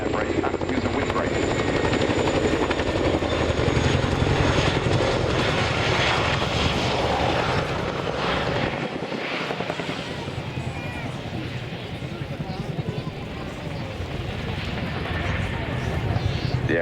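A military helicopter at the RAF Cosford airshow decelerates and turns, giving a loud, continuous rotor and engine roar that holds steady throughout.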